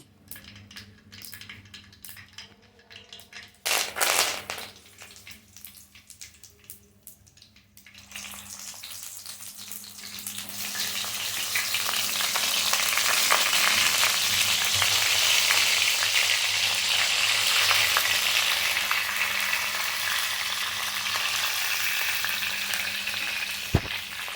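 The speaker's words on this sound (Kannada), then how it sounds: "ಎಣ್ಣೆ ಬಿಸಿ ಆದ ನಂತರ ಸಾಸಿವೆ ಮತ್ತು ಕರಿಬೇವಿನ ಸೊಪ್ಪು ಹಾಕಿ ಫಿಲ್ ಮಾಡ್ಕೊಂಡಿದ್ದಂಥ ಬದನೆಕಾಯಿನ ಇದ್ದೀನಿ" Stuffed brinjal fries in hot oil with mustard seeds and curry leaves: a sharp crackle and spatter builds into a loud, steady sizzle, after some quieter clinks and handling noises at the start.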